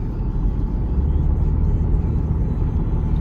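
A 2011 Chevy Equinox with a four-cylinder engine pulls steadily up a hill, its low engine drone and road rumble holding a constant, close level throughout with no voices.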